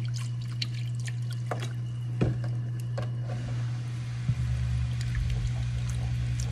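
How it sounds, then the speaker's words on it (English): Milk is poured into white sausage gravy in a pan, giving soft dripping and trickling sounds over a constant low hum, with a brief knock midway. "Now I like a little bit more white gravy, so I'm going to add more milk."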